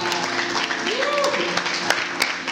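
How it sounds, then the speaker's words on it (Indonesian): A church congregation claps together during a worship service, a steady wash of applause that runs through the whole moment with a low hum underneath. "Tepuk tangan sama-sama buat Tuhan."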